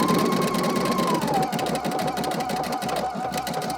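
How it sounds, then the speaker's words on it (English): Close, loud sewing machine running a zigzag stitch across layers of ribbon trim on fabric, a rhythmic mechanical chugging with a steady motor hum that dips slightly in pitch partway through. "I'm gonna take a zigzag stitch and zigzag these 2 layers together"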